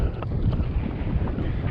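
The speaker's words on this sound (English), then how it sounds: "Beautiful morning, just a lot of wind." Strong wind buffets the microphone on a coastal kayak trip, a steady loud rumbling roar with gusty swells and no speech.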